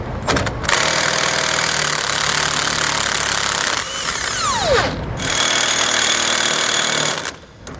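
An impact wrench hammers loudly and steadily on suspension bolts of a 2022 Grand Design Imagine travel trailer being fitted with Dexter bronze bushings, two long bursts separated by a brief pause, close up and without talk.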